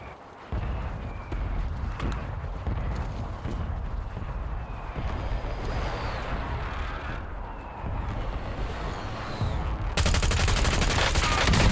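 Continuous rapid gunfire and explosions from a game, dense and loud throughout, with bursts of automatic fire intensifying toward the end.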